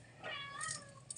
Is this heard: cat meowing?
yes